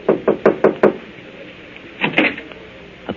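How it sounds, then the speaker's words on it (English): Knuckles rap on a door in a radio drama sound effect: five quick, evenly spaced knocks, then a short pause and a couple of softer, duller knocks. The knocks are close and clear, with no talk over them. "and knocks."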